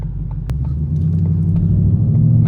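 A red 2015–2017 Ford Mustang with a six-speed automatic rumbles steadily at close range, a deep continuous engine drone that holds without breaks.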